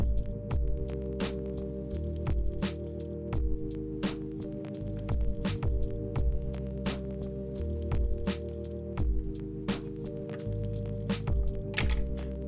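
A diode laser on an MPCNC cuts through damp 1/4-inch plywood at full power, giving a steady electrical hum with regular sharp ticks and clicks of the machine moving throughout, fairly close.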